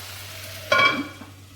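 Tomatoes frying in a pan over a low flame for a fenugreek chicken dish, a brief close sizzle and stir rising suddenly and fading within a second.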